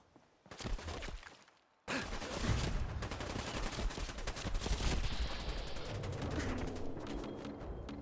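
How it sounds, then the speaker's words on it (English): Automatic shotgun fire in a video game: a short burst, a brief pause, then a long, loud run of rapid, closely spaced blasts with clattering debris, all without talk. "They make this into an automatic shotgun."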